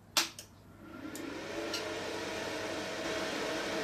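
A $200 pilot arc plasma cutter running at 50 amps on steel gives a steady, roaring hiss. A couple of sharp cracks from the arc start come first, and then the hiss holds steady and fairly loud, with no talking.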